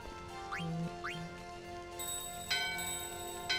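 Bells ringing in the Final Fantasy IX video game, a bright chiming tone with rising tinkling chimes near the start and fresh sharp strikes later, over a sustained game music background.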